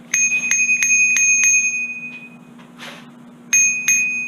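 A bicycle bell on a Polygon Siskiu T8 mountain bike rings in a quick series of bright dings, pauses, then rings again, close and clear over a low steady hum.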